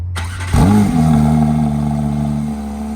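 A Porsche 911 ST engine cranks and catches, revving sharply before settling into a steady, loud idle and pulling away, close to the listener with no talking.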